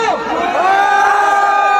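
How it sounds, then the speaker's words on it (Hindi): A festival crowd at a Bholenath jhanki procession with a loud sound system cheers and shouts loudly with raised hands, voices rising and blending together up close. "एक बार दोनों हाथ उठा करके जोरदार जयकारा लगा रहे हैं"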